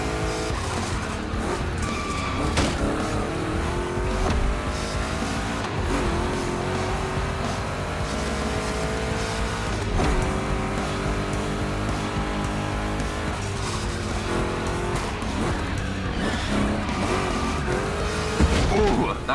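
Two Chevy big-block cars race in The Crew Motorfest, with loud continuous engine roar, revving and tire squeal running throughout under a music bed and some talk.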